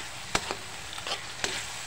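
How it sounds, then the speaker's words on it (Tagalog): Fish sisig made with galunggong being stirred in a pan, with a steady hiss of frying underneath and a few sharp scrapes and clinks of the spoon against the pan. "Haluin lang po natin ng konti."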